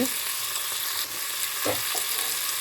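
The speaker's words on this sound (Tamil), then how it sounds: "வெங்காயம் நல்லா வதங்கி கொண்டிருக்குது" Salted onions fry in a pan with a constant close sizzle, broken by a few soft scrapes as they are stirred, no talking.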